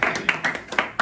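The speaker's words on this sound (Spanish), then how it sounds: "Otro aplauso para ti." Clapping at a Deportivo football discussion gathering in a gastrobar, sounding as a series of sharp, evenly spaced bursts of hands close by, with a faint voice underneath.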